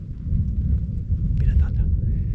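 Low thunder rumbles continuously near Bluff Knoll in the Stirling Range National Park, a deep rolling sound with a brief faint voice partway through.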